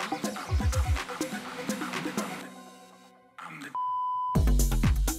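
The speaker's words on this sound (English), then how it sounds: "So to stop with that profanity, I just put a beep sound in there instead." A club remix of a DJ track plays, the music drops out, and a steady electronic beep tone cuts in to censor a word before the beat slams back in.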